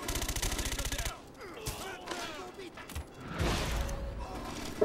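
Rapid machine-gun fire in a video game opens loud and close, then breaks into scattered single shots, clicks and mechanical clatter, with a voice speaking over the action.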